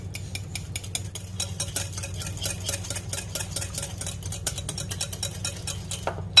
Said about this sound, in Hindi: इन सबको अच्छी तरह से फेंट लेंगे कि अच्छी तरह से मिक्स हो जाए